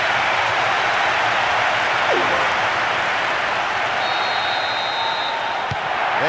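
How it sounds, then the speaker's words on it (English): A stadium crowd in Winning Eleven 2009 roars steadily after a goal, a broad, loud wash of cheering and applause that holds without pause, with brief faint commentary underneath. "you can hear the relief from the crowd"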